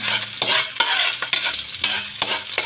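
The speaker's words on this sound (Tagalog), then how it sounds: "Pa-fry muna ako ng mga lamas. Ito po ang bawang at saka onion." Garlic and onion fry in a pan with a bright, continuous sizzle, broken by repeated scraping stirs at an uneven pace, close and fairly loud with no talking.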